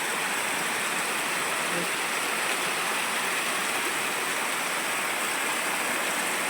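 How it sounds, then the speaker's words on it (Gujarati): Heavy rain pours steadily in a dense, unbroken hiss that fills the scene evenly from start to finish, with no voices. "વરસાદ સારા સારો વરસે છે"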